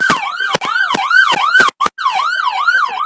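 Two ambulances pass along a city street during a blockade, sirens wailing in a loud, close, steady up-and-down pattern, broken briefly by short gaps.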